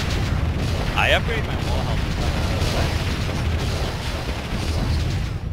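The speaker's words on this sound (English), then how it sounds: "there's so many explosions" Explosions and artillery booms rumble continuously in the strategy game Warzone 2100 during a chaotic free-for-all battle, a dense low thudding bed heard under someone talking.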